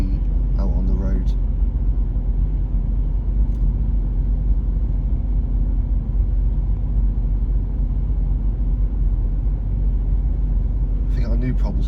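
A car driving along a road in Cornwall among classic cars, a steady loud low rumble of engine and tyres throughout, with people talking over it at times.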